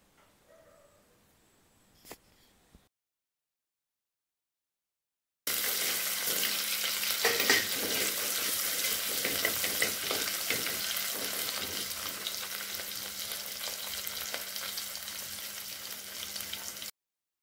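Pounded ginger and garlic sizzle steadily in hot coconut oil in a clay pot, a dense continuous frying hiss that starts abruptly after a few seconds of near silence with faint handling sounds.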